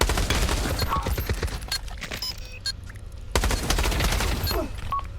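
Bursts of gunfire snap in a Pavlov match, clusters of sharp shots in quick volleys, a pause of quieter stretch midway, then another loud flurry of rapid fire.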